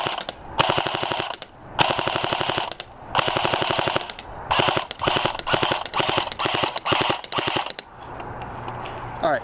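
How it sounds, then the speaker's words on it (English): A JG S.T.A.R. Dragon airsoft gun fires in rapid full-auto bursts at a group of boxes outdoors, about eight sharp mechanical rattling strings separated by short pauses, loud and close. "We're going to be shooting at grouping of boxes over there just to get you an idea of the rate of fire."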